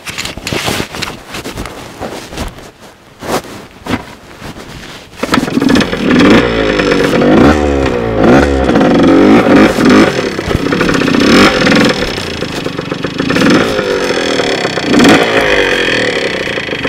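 Motorcycle on a dirt track, idling roughly at first, then revving hard and riding from about five seconds on, its engine loud, close and steady with rising and falling pitch.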